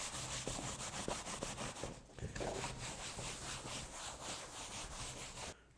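A dry cloth wiped over a damp metal piece being prepped for a copper patina finish, making rhythmic, close rubbing strokes with a brief pause partway through, no voices.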